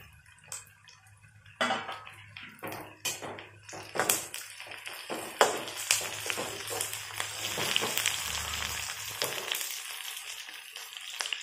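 Whole spices hitting hot oil in a pan for a dry moth bean (matki) dish, with sharp pops and crackles that build into a steady, close sizzle, and no voices.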